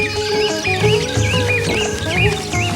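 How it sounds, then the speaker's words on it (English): Several birds chirping close by, with repeated bright warbling and trilling calls that overlap in a busy, continuous chorus over a low background hum. "What are these chirping birds looking for?"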